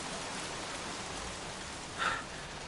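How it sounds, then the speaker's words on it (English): Steady rain in the video game Heavy Rain, a dense, even hiss of falling drops with one brief louder swell near the end, no voices. "Goddamn rain. Soaking wet."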